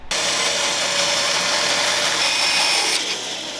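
A wood piece is fed through a power saw along the fence during a nursery changing-table build, giving one loud, steady whining cut that lasts a few seconds before tapering off.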